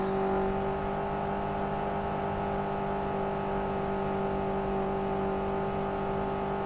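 A racing car engine in GRID Autosport, heard from a cockpit camera behind plastic paneling, drones at a steady sustained pitch with strong tonal hum and constant loudness, no speech over it.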